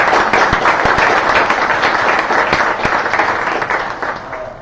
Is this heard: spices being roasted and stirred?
no